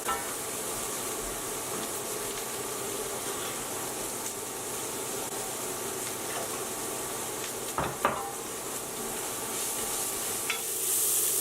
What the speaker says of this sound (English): We're going to give it a good stir.